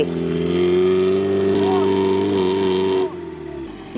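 A stuck UAZ Bukhanka van with an automatic gearbox, a 3.4-litre V6 and 33-inch wheels revs hard and steadily as two wheels spin and dig, then the engine note drops off near the end.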